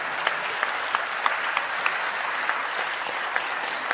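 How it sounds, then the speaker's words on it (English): A crowd in Istanbul applauds in a steady, even wash of clapping, with a few sharper individual claps standing out throughout. "And they're also clapping."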